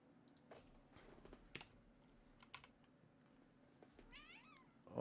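A cat gives a short meow near the end, following a stretch of quiet computer keyboard typing and clicks in a room.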